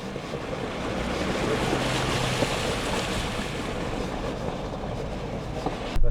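Truck fording a river in Iceland, a steady loud broadband rush of churning water and engine blended together, continuous throughout with a brief louder burst at the end.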